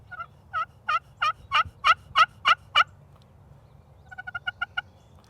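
A chestnut turkey call makes a run of loud, evenly spaced hen yelps, pauses, then gives a quicker, softer string of clucking notes; no voices.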